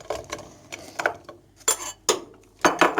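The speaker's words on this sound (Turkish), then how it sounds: "Şimdi tenceremin içine alacağım." Sliced quince and other ingredients are dropped into a cooking pot, giving a series of close, sharp clinks and clatters in uneven bursts with short pauses between them.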